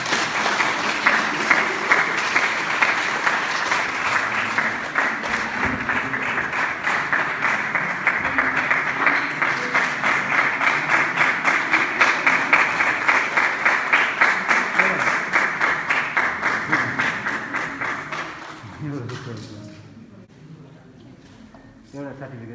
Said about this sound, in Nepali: ताली बजाइदिनु